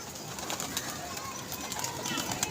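Pigeons coo softly at a pigeon club while a newly caught bird is handled, low murmuring calls under a steady background hum.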